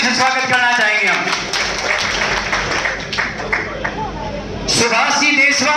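A crowd at a Congress party gathering claps to welcome a guest, scattered applause rising and falling beneath someone speaking over a loudspeaker, then fading as his voice returns.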